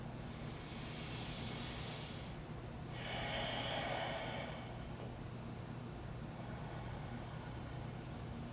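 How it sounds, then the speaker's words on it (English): A slow, deep breath drawn in and let out during a beginner yoga pelvic tilt session: a soft, airy rush swelling over a few seconds against a steady background hiss. "Just inhale and exhale."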